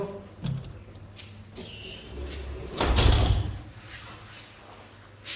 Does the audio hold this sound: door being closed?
yes